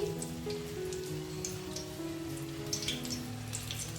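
Drumstick flower fritters frying in hot oil over a low gas flame, a steady close sizzle with scattered crackles and pops, with no talking.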